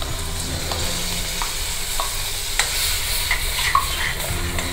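Ground masala paste frying with sautéed capsicum in a pan, a steady close sizzle with rhythmic stirring scrapes and light utensil taps, no voices.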